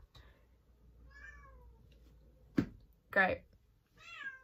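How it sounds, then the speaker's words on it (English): A house cat meows several times indoors, moderately close, with soft thin cries and two sharper louder calls, while a person speaks a brief word in between. "My cat just came in the room."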